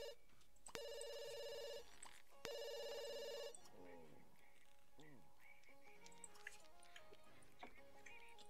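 A telephone rings in The Sims 2 life-simulation game: two loud, bright electronic ring bursts in quick succession, followed by softer game effects and light background music.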